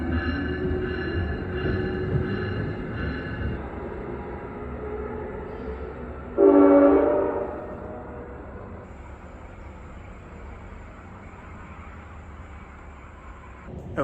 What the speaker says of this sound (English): back up on the sky bridge to video the train leaving.